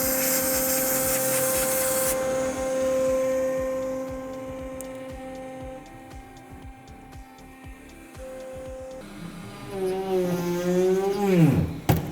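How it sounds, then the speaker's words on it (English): WD-40 is sprayed in a short hissing burst onto a cheap CNC machine's cutting bit as the machine hums steadily, with the spindle's pitch then rising and sweeping until a sharp final crack. "to make sure that it stays nice and cool, I'm gonna spray WD-40 on it as needed."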